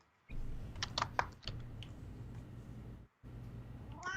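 A cat steps across a computer keyboard, setting off a cluster of quick clicking keystrokes over a low steady hum, then a few lighter taps; a short meow-like sound comes at the end.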